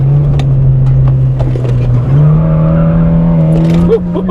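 Honda Fit GD3 hatchback under way, its engine drone loud and steady from inside the cabin, the pitch climbing and then shifting up around midway as a gear change takes hold, with tire and road noise beneath.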